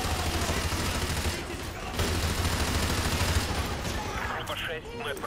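Dense, continuous automatic gunfire in the Call of Duty: Modern Warfare 2 Remastered video game, loud sustained bursts filling the whole stretch with brief dips, a voice faintly audible near the end.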